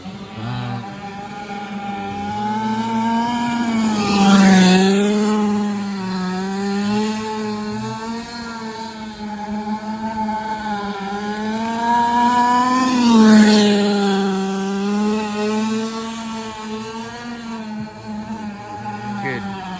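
A late model race car lapping the oval at Outlaw Raceway after a steering fix drones steadily, its engine note rising and falling twice as it passes nearer, loud and continuous throughout.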